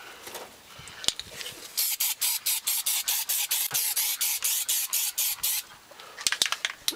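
An aerosol can spraying protective coating onto an air-conditioning condensing unit, a string of quick rhythmic hissing pulses, close and fairly loud, with a few taps and knocks around them.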